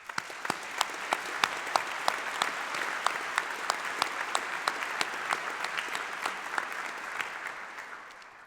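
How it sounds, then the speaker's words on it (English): An audience at a doctoral hooding ceremony applauds steadily, dense clapping filling a large hall at moderate volume with a few sharp, distinct claps standing out before it tapers off at the end. "Let's again acknowledge the achievements and contributions of these graduates with a round of applause."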